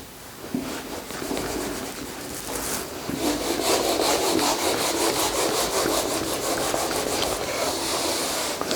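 A board eraser rubs writing off a classroom board in a continuous scraping sweep, steady and fairly loud, with rhythmic strokes quickening toward the end and no talk over it.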